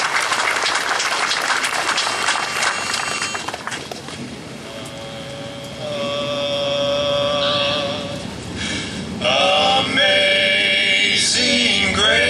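Applause from the crowd at a 9/11 memorial motorcycle ride service, a dense, steady patter that fades after a few seconds as sustained musical tones take over.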